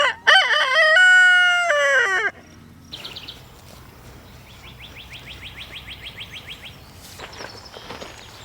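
A rooster crows loudly up close, followed by quieter rhythmic clucking and chattering from chickens nearby, penned within electric netting on a farm.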